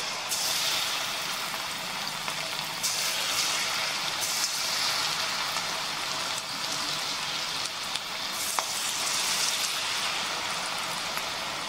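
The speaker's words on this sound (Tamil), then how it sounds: "இப்போ இதில் வந்து சின்ன சின்னதாக போட்டு உங்களுக்கு எவ்வளோ சைஸில் வேணுமோ அதுக்கேற்ற மாதிரி போட்டுட்டு பொரிச்சு எடுக்க வேண்டியதும்" Small pieces of wheat pakoda dough fry in hot groundnut oil, producing a steady, dense, rain-like sizzle close by at moderate volume, with occasional brief crackles and no talking.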